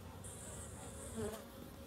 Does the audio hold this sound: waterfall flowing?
no